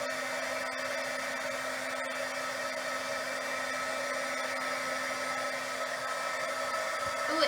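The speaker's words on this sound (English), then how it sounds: "Just take your heat gun, whatever you got, hair dryer, heat gun, just make sure that it's dry." A heat gun or hair dryer blows steadily and loudly at close range with a constant whirring hum, drying a chalk-painted pine cone.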